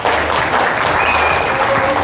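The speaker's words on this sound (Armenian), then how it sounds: "Այո, այս ծափերը ձեր գեղեցիկ ընտանիքի համար են" Guests at a family party celebrating a young man's army send-off applaud steadily, a close, continuous wash of clapping with no break.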